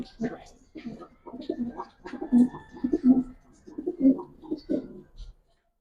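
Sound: Giribaz pigeons cooing

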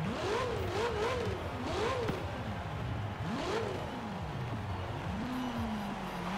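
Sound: Maserati Ghibli engine revving in Forza Horizon 4 video game

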